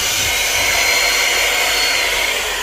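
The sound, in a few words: blower dryer drying cats' fur after washing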